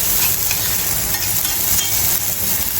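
Onion frying over low gas in a stainless steel pan gives a steady, dense sizzle and hiss that runs evenly throughout, close and fairly loud, with no voices.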